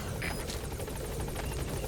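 Helicopter rotor noise from the video game Metal Gear Solid V: The Phantom Pain, a steady, fairly quiet chopping drone with no talk over it.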